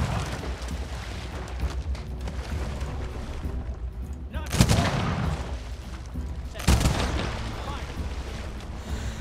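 Janissary units firing in the Humankind strategy game, two sharp booming volleys a couple of seconds apart over a steady rumble of game sound, with someone talking throughout.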